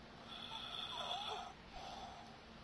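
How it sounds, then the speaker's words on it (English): Ghost woman breathing close behind the player in the horror game P.T.: a faint, raspy inhale-exhale, two slow breaths with a snore-like rattle, heard alone. "She's breathing on my neck."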